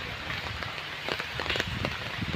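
Rain pours steadily at the national zoo in Bangladesh, a dense continuous patter of drops on surfaces with some sharper splashes, no voices.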